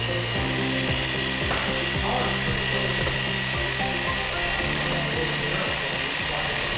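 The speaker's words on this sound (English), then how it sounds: "you sweep across it, and it literally is power scraping" A hand-held power scraper with a blade moving quickly across a metal surface at a low rheostat setting, giving a steady run of rapid rhythmic rasping strokes over a constant motor whir, close and continuous.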